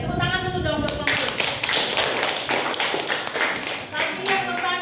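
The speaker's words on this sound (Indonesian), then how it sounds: "Tepuk tangan dulu dong buat kelompok." Classmates in a classroom clap for a student group, rhythmic hand claps beginning after a moment of talk and continuing unevenly, with voices heard over the clapping before and after.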